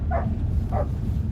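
A dog barks twice, a pair of short, moderately distant woofs about half a second apart over a low rumbling outdoor background.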